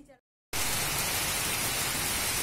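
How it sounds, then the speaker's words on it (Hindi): Heavy rain pours outside, a dense, loud, steady hiss that starts abruptly after a brief bit of speech and silence. "देखो बाहर पूरी बारिश लग गई है"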